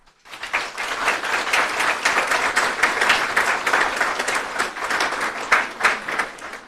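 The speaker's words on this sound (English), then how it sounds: "Audience, let's take a quick moment to recognize these graduates sitting here with a round of applause." A graduation ceremony audience claps for the graduates, with sustained dense applause swelling in quickly and continuing for several seconds.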